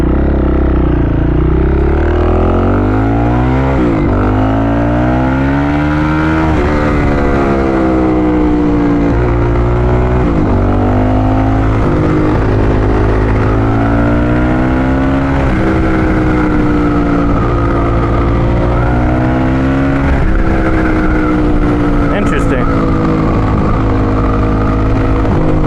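A supermoto motorcycle engine revs repeatedly while riding, rising and falling in pitch with gear changes, loud and close throughout.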